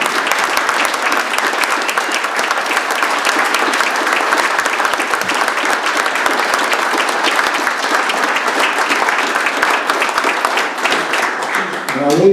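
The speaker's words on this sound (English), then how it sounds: "join me in giving her a big round of applause" An audience applauds at a building's grand opening, dense sustained clapping from a crowd filling the room, loud and steady throughout before fading near the end.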